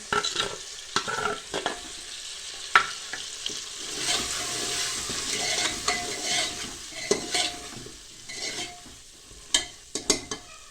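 Leftover spice masala stirred into hot oil while cooking stuffed brinjal and potato: close, steady sizzling with repeated spoon scrapes and sharp clinks against the pan.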